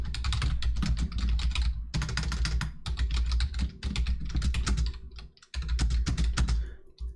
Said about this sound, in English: So I'm gonna type that in.